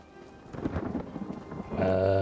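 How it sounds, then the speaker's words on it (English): Thunder rolls in the game ESO Gold Road, a low rumbling swell that builds over a couple of seconds into a steadier, louder roar with rain-like hiss, no one speaking. "we've got some thunder going on in game"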